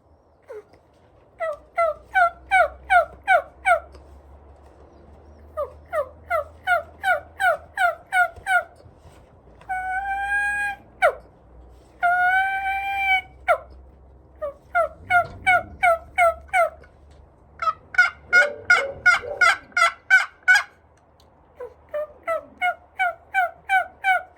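Turkey hen calls made on a diaphragm call, with a tree call and yelps imitating two hens flying down: repeated bursts of rhythmic, close, loud yelping series broken by short sharper runs of clucks, alone without talk.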